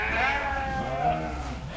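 Sheep and lambs bleat in a lambing pen, a couple of close, wavering cries overlapping one another with a low farmyard rumble beneath.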